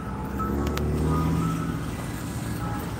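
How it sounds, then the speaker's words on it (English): An ice cream truck plays its tinny chime melody from a distance, steady tones held over low street and engine rumble through the whole stretch. "Ice cream truck trying to get his last few days of ice cream sold."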